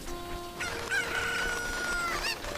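Cuckoo chickens in Zelda: Ocarina of Time let out a loud rooster crow with clucking, a single drawn-out call that rises and trails off, with no talk.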